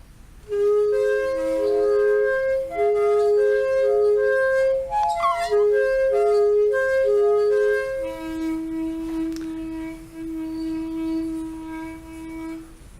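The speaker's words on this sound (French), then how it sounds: "c'est le son du cèdre du Liban, justement." A sculpted Lebanon cedar tree sounds as a resonant instrument, producing sustained, bell-like tones that play in overlapping steps like a slow melody, fairly clear and close with no talking.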